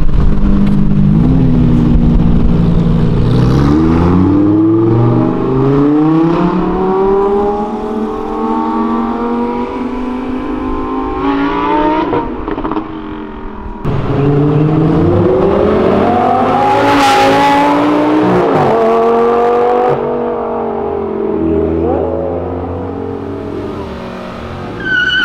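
Lamborghini and other cars downshift and rev hard along Avenida Europa, engine notes rising and falling in repeated loud pulls with gear changes, close by and continuous throughout.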